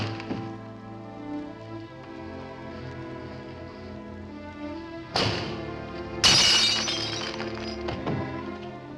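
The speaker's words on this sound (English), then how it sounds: "if you shatter a pane of glass in the dead of night, it makes a noise" Music plays, then a glass window pane shatters loudly, followed by a second heavier crash and tinkling shards falling, all over the ongoing music.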